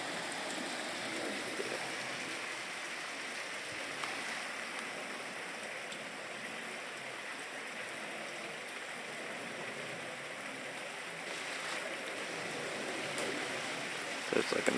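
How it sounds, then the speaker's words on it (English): A small stream spills over a miniature waterfall outdoors, giving a steady, close wash of splashing water that holds evenly throughout with no voices. "So it's like a miniature waterfall."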